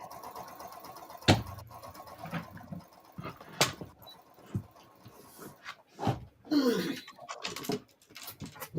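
A sewing machine runs a straight seam during a fun sewing project, heard as short bursts of mechanical whirring and clatter amid rustling and handling noises, with brief pauses between runs.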